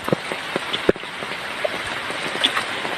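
Steady rain falls during flood conditions in Gopalganj, Bangladesh, a soft continuous hiss of drops on wet surfaces with a few sharper nearby splashes and knocks, and no one talking.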